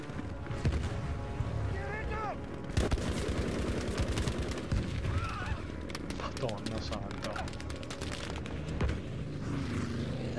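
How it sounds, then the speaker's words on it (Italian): Aircraft guns rattle in Battlefield 5 combat, with dense bursts of rapid gunfire and explosive thuds mixed with engine noise, loud and close, while a voice talks over it. "Perché stanno sparando gli aerei."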